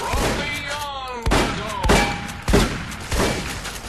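A 12 gauge shotgun firing in Fallout New Vegas, several heavy booming shots spaced roughly half a second apart, close and loud, with other game sounds between the blasts.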